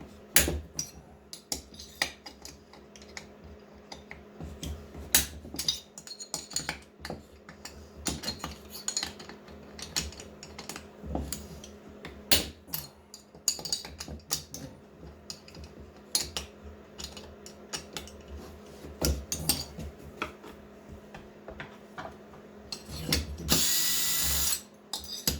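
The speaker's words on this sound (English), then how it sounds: "now we can pop the cylinder off" Removing the cylinder from a ported Stihl MS500i chainsaw brings sharp metallic clicks, clinks and tool rattles in scattered bursts, close up, with a louder scraping clatter near the end.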